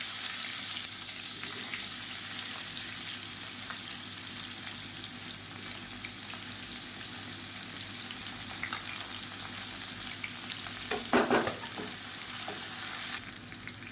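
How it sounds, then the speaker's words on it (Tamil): Sliced onions frying in a pan with mustard and cumin seeds for a chutney, a steady close sizzle throughout with a brief louder burst of stirring near the end. "கடுகு சீரகம் நல்லா பொரியுது இப்போ மீடியம் சைஸாக ரெண்டு பெரிய வெங்காயம் நீளமான நறுக்கினதை சேர்த்துக்கலாம்"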